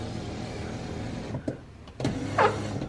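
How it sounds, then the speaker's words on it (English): Power windows on a 1966 Lincoln Continental whir briefly twice, a short motor burst followed by a longer one, close by and fairly quiet inside the car with no voices. "All the windows are automatic."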